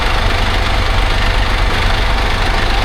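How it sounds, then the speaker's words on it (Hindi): A truck's refrigeration unit motor runs with a loud, steady, close engine drone and a rough knocking texture throughout. No one is speaking. "तो अभी ये मोटर ऑन हो जाएगी, इसकी इंजन ऑन हो जाएगा।"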